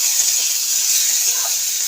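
Tomatoes added to a hot oiled pan give off a loud, steady, close hiss and sizzle that carries evenly throughout, with no talking.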